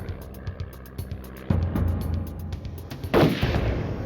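Gunshots ring out at a stop sign, a few sharp reports spaced apart, fairly distant and muffled, over low ambient rumble.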